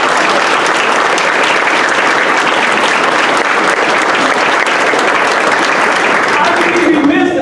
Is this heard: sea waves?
no